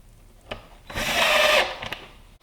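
A power drill drives screws into a gray wooden table, a short whirring burst that rises and stops, framed by a couple of sharp clicks and handling knocks close by.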